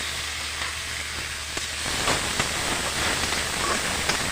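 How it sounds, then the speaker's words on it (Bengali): Chopped tomato drops into a hot pan of leftover rice being made into fried rice, and a dense, close sizzle swells after about two seconds and stays loud and crackling throughout. "আর এখন আমি দিয়ে দিচ্ছি এখানে একটা টমেটো কুচি করে"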